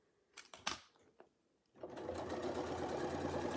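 A sewing machine stitches a feathered crosshatch quilt with batting: a few clicks and thumps of handling first, then the motor starts and runs in a steady, loud, dense whir to the end, no voices.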